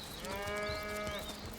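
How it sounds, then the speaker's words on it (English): A cow lows once in the video game Divinity: Original Sin, a single drawn-out moo about a second long that sits clearly over a steady ambient background. "Where are all these cows? I hear loads of cows,"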